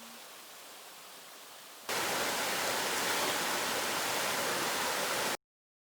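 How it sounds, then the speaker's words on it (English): Waterfall reached on a short hike during an East Coast road trip, a broad steady rushing roar that jumps suddenly louder partway through and then cuts off abruptly. "We did one short hike out to some waterfalls though that were really beautiful."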